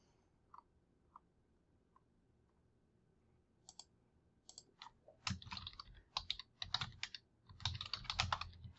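Keys clatter on a computer keyboard: a few isolated clicks at first, then bursts of rapid typing that grow louder and denser, close up in a quiet room with no voices.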